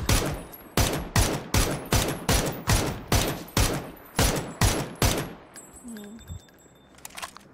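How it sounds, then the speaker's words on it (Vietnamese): Regular, evenly spaced loud gunshots in a video game, about ten sharp reports in a steady rhythm, then the firing stops and a faint shot or two sounds near the end. "Bắn tùm lum."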